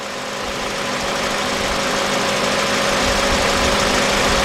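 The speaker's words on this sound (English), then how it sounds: "There's the fans." Steady, loud whoosh of radiator cooling fans running on a 2003 Honda Accord 2.4 with an overheating problem, a constant broadband roar alongside the idling engine hum, with no talking.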